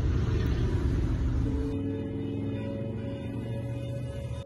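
Motorcycles in a biker procession rumble through the state capitol streets in central Illinois, a loud, deep, continuous engine drone that briefly shifts as the bikes pass.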